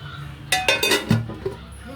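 A metal pot lid clinks and rattles onto a cooking pot in a home kitchen while rice and eggs cook, a few sharp clanks close by in a cluster, then fading clatter.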